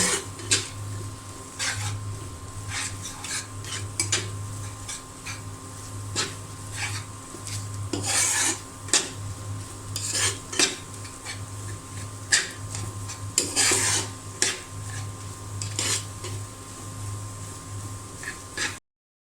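Egg frying in a pan for noodles, with a faint sizzle under intermittent clinks and scrapes of a utensil against the pan, scattered and fairly quiet over a low background hum.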